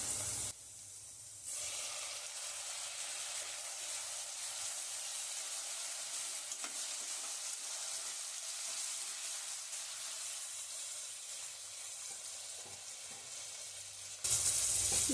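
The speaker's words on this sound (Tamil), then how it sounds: "இப்போ தக்காளி நல்லா வதங்கிடுச்சு." Tomatoes sautéing with onions in a pan for prawn biryani produce a continuous soft hiss near the mic, with faint stirring scrapes, and a sharper burst of sizzle at the start and end.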